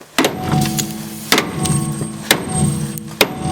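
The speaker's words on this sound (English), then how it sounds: "I'm going to stick this socket on that nut and drive the bolt out with a hammer" Four sharp metallic hammer blows on a socket over a nut, driving out a strut bolt, about one second apart, ring out against a steady background hum, each strike loud and close.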